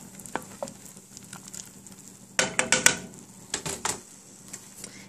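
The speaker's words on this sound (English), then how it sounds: "Give it a stir." Onions stirred into a gyudon sauce on the stove, with a low steady sizzle and a burst of quick scraping, clattering strokes in the middle, then a few softer stirs.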